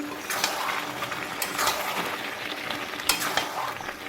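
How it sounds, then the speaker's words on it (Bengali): Chicken sautéing in a pan, a steady close sizzle broken by the scrape and clatter of a spatula stirring through the pieces. "এই চিকেনটা কষাচ্ছি এখানে"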